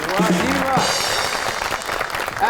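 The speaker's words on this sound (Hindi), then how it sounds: "आपकी बहुत सी तालियों में the one and only ज़ारिया Khan." Applause from a TV show studio audience, steady and dense, with a voice speaking over the start before the clapping continues on its own.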